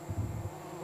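Swarm of yellow bees on a river sandbank in the Guyana jungle, a brief low buzzing drone that swells near the start and then settles into a fainter hum.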